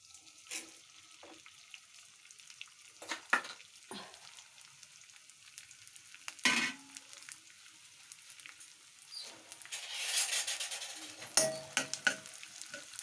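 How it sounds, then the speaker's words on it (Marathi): Edible gum (dink) frying and puffing in a pan for winter laddoos, heard as a soft crackling sizzle with occasional sharp scrapes and knocks from stirring and a louder rustling burst near the end, close and without speech. "असं डिंक हलवून घ्यायचं आहे."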